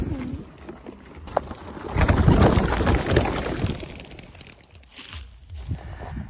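Racing pigeons burst into flight with a rush of flapping and clattering wings that swells and then fades, along with some cooing nearby.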